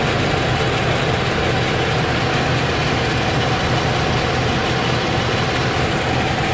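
A GM Vortec 5.0L or 5.7L V8 in an OBS Chevrolet truck idling, a loud, steady, rumbling drone close by that fills the whole stretch with no talk.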